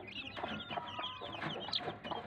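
A hen clucks to her chicks in a rhythmic series of soft, repeated clucks with faint peeping between them, close by and steady over a couple of seconds, with no talking.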